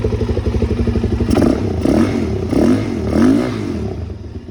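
A Suzuki DRZ 400 SM single-cylinder motorcycle, after pair valve and petcock replacement, is cranked, fires up and idles loudly up close with rhythmic thumping and a few throttle blips.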